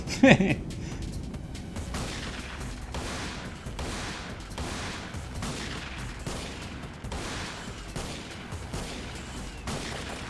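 Rapid pistol gunfire from the video game Digital Devil Saga, a steady stream of dense repeated shots running loud throughout, with a sharper burst at the start.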